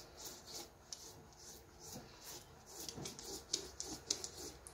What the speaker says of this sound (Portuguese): Passa direto com o rolinho.